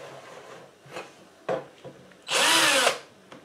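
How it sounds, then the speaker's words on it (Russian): A cordless screwdriver spins at low speed for about half a second, a close whirring buzz that follows a few clicks and handling knocks, with no talk. "Вот возьмем шуруповерт. Включим маленькие обороты."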